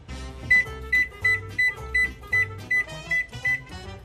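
An oven's control panel gives a string of about a dozen short, evenly spaced electronic beeps while preheat is being set, with a soft low tone underneath.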